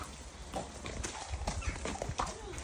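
Horse hooves clip-clopping at a riding meet, a faint, uneven series of hoof strikes on firm ground with quiet background bustle.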